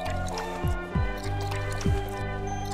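Wet lapping and squishing from a dog drinking water in the video game Bulb Boy, a few distinct gulping slurps spaced out over a low steady background hum.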